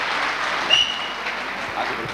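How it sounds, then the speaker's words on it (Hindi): An audience at an awards speech event claps, a brief wash of applause that fills the whole short stretch evenly at moderate loudness with no voices over it. "एक जोरदार ताली मिसेज वंदना जी के लिए।"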